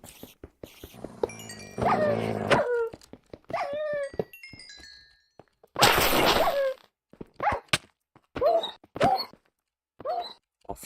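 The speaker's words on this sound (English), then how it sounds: "Dogs." Dogs in a video game map whimper and yip in short, high, whiny bursts separated by gaps and soft thuds, the cries rising and falling repeatedly, close and fairly loud.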